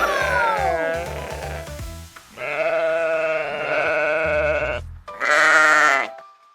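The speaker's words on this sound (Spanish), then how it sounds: "Esto es una oveja." A sheep bleats several times, loud and close, with long wavering cries separated by short pauses, over a simple repeating rhythmic beat in a children's animal sounds setting.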